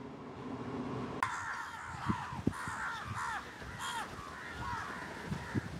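Several crows caw repeatedly outdoors, with a few harsh calls in a loose rhythm, moderately close and fairly faint, over a low background hum.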